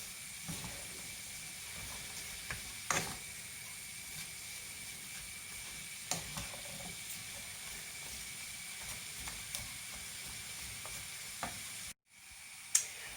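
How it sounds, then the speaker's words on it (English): Spring onion, celery and other vegetables stir-frying in a pan for a turkey or chicken stir-fry, an even sizzling hiss with sparse stirring clicks, briefly cutting out near the end. "I'm going to leave that to cook for a few minutes now till the veg starts to cook down."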